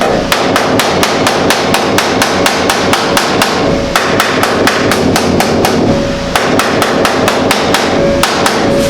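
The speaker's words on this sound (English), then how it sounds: "Trying to use the flat surface of the hammer to work this and peen it over nice and flat." Rapid, steady blows from a flat-faced hammer peening a sheet metal roof edge on a Model A hot rod truck, loud and close, fast continuous rhythm with only a couple of brief pauses.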